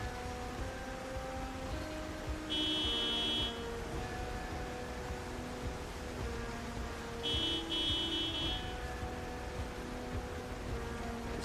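A helicopter horn in Project Zomboid sounds twice as short buzzing bursts several seconds apart, fairly faint over steady rain-like noise and a low drone.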